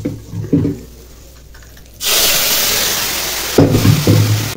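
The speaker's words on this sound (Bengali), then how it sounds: "এখন ডালটা দিয়ে দেবো।" Dal lentils pour into a cooking pot as a loud, close rushing stream that starts abruptly and runs steadily for a couple of seconds. Brief knocks and a pause come just before it.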